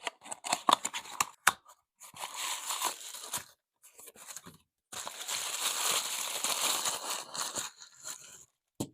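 Taped, plastic-free packaging holding Transformers EarthSpark Tacticon finger-puppet toy figures is torn open in close, crackly bursts of ripping, crinkling paper and tape, separated by brief silent pauses.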